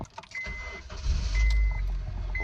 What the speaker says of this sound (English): Who said I couldn't get the car to start?